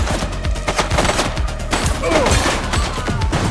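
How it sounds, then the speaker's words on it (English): Gunfire in The Precinct video game: bursts of rapid shots crackle over a busy, loud mix, with sustained clattering volleys rather than single isolated reports. "He's shooting!"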